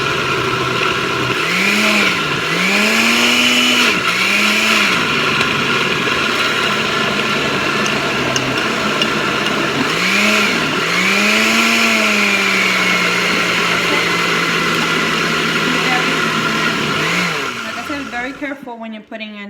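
A blender blends sofrito ingredients with a loud, steady motor whir that dips and surges in pitch several times, then cuts off abruptly at the end.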